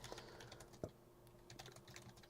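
Typing on a computer keyboard, with quiet, irregular key clicks close by and one sharper tap. It is faint and heard alone.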